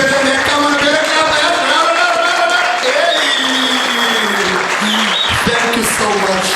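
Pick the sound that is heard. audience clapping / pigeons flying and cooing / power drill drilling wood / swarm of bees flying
audience clapping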